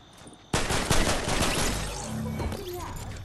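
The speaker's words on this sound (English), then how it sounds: "Primal rifle they killed me with." Primal rifle gunfire in Fortnite bursts out in a sudden loud, rapid volley that rattles on for nearly three seconds, dense and close, with no voices over it.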